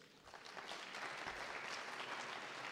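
A crowd claps steadily in dense, continuous applause, moderately loud and sustained throughout, with no clear speech.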